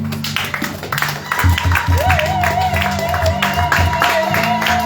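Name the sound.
congregation applauding and cheering for the Lord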